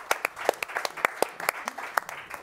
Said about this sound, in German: zu Recht der Applaus